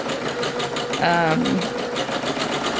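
A Singer Legacy SE-300 embroidery machine stitches with Gutermann thread, making a fast, steady mechanical chatter close by, with a person briefly talking over it partway through.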